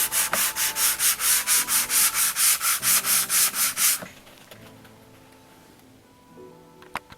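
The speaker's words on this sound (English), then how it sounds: "I done started doing my sanding." A sanding sponge is worked back and forth over a fiberglass speaker pod in fast, regular rasping strokes for several seconds. The sound is close and loud, then stops, leaving quiet handling clicks and knocks.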